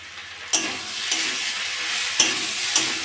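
Spiced tilapia fish curry with potato and okra sizzling and frying in a pan, a steady broadband hiss broken by a few sharp scrapes of a spoon stirring through the masala.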